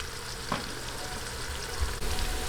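Chopped onions sauté in a hot pan for a Filipino bangus sardinas in tomato sauce, a steady close sizzle and crackle with faint stirring scrapes.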